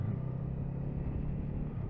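2022 Honda CMX 500 Rebel motorcycle engine revving gently while riding up a lane, a steady low rumbling hum heard close and fairly quiet.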